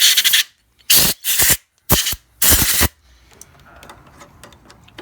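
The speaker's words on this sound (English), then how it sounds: "I like to blow it out with the air compressor." Air compressor nozzle blasting out a disassembled rifle reloading die, four sharp, loud bursts of hissing air in quick succession, then quiet handling noises.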